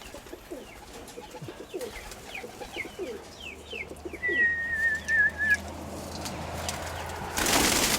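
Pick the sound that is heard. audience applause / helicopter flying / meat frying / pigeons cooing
pigeons cooing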